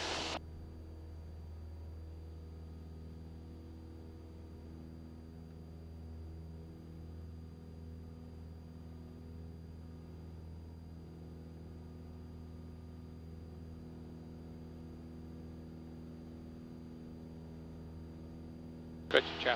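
Small aircraft engine held at full power on the takeoff roll, a steady loud droning rumble with a constant hum that stays even for about twenty seconds, with a brief click at each end.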